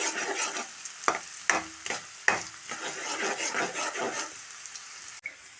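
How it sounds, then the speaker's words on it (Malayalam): Mustard seeds spluttering in hot oil in a pan while making Kerala-style gooseberry pickle, a steady sizzle broken by sharp pops and scraping stirs, close and moderately loud with no talking. "കടുകൊന്ന് പൊട്ടിക്കോട്ടെ"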